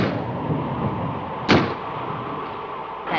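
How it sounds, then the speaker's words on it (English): Wind bangs a door in a 1959 film: a single sharp thud midway through over a steady low background hum, then quiet rumble resumes. "That's just the wind banging a door."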